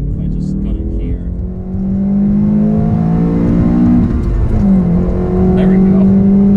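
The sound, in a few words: 2015 Honda Civic Si accelerating at full throttle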